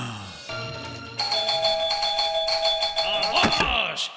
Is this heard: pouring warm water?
no